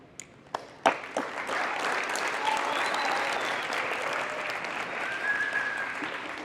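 An audience breaks into applause after a few scattered claps, building into sustained clapping that continues steadily to the end.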